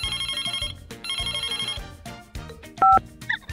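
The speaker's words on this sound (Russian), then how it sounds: "Звонок." A cartoonish electronic telephone ringtone repeats in bright, rhythmic warbling bursts in a children's doctor video game, followed by short game jingles and effects, loud and close with no talk.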